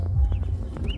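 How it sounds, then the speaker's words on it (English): Ducklings at an orchard in Granville, Cedros, Trinidad give quick, close chirping peeps over a steady low background rumble. "We have some ducks here."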